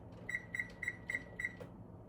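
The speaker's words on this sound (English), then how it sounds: "Put my timer on." A kitchen timer is set and beeps five times in a quick, even rhythm, each short electronic tone clear and close, then stops, with no one talking.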